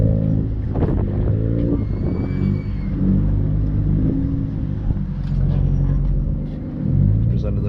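A Ford Lightning pickup fitted with LMP Lee's modular performance parts rumbles steadily at a Cars and Coffee meet in Southlake, a deep continuous low engine drone with slight swells, loud and close amid crowd noise.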